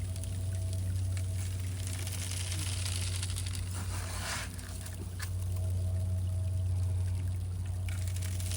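Gold tailings of half-inch screened material pour steadily through a cleanup sluice, a continuous watery rushing with trickling and splashing that holds throughout, with a slight dip midway, and no talk.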